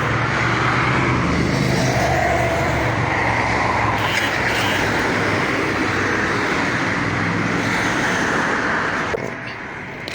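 Steady, loud road traffic from cars and other vehicles moving and parking on a busy street in Israel, a continuous dense rumble of engines that eases slightly near the end.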